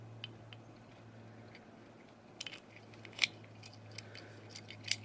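A well-used key turns in an old Keen Kutter padlock, giving a few quiet, scattered metallic clicks and a sharper snap as the shackle pops open, over a low steady hum.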